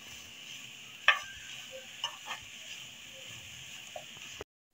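A filling sizzles and is stirred in a pan with black pepper powder, a soft steady fry broken by a few sharp clinks of the spoon against the pan.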